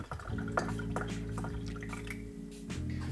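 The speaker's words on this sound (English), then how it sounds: "There I'm pouring myself a glass of the blueberry" Homemade blueberry kombucha pours into a glass, a bright trickling stream with dripping and rising fill tones, close and clear, with no talk over it.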